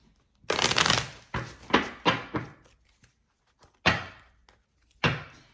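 Tarot cards riffle and snap together in a series of crisp bursts, followed by a few separate slaps of the deck, close up with no talking.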